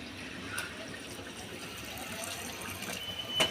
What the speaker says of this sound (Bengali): এখন আমি গরম পানি দিয়ে দেব।